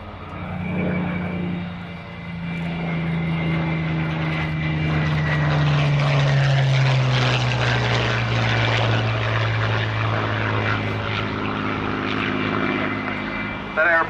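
A propeller aeroplane engine drones overhead, its low steady tone sliding slowly downward as it passes, loud and continuous for the whole stretch with no talking.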